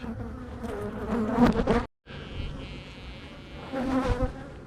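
Loud, close buzzing of many honeybees swirling around an opened hive, a dense droning hum that cuts out briefly before resuming just as thick.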